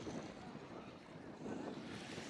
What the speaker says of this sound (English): It's a little windy, but it's okay.